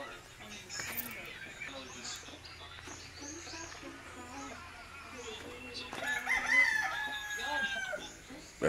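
A fighting rooster in a Philippine village crows faintly at a distance amid background chatter and ambient noise, with a brighter call rising near the end.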